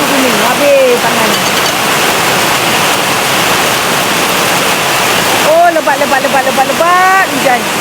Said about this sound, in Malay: Lebat hujan.